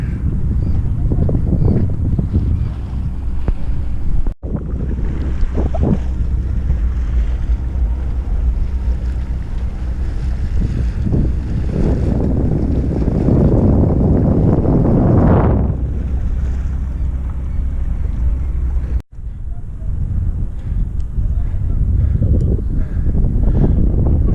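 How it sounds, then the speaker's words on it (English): A steady low outboard motor drone on a big wooden boat on Lake Titicaca, with wind buffeting the microphone and water splashing, continuous and close. "Big wooden boats use the same motors as you would use on a little fishing boat."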